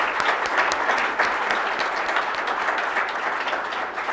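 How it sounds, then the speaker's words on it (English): A conference audience at a Nextflow summit in Boston applauds its morning speakers, a steady, dense wash of clapping that stays loud and even throughout. "Can I have a round of applause for them?"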